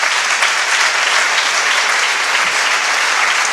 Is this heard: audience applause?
yes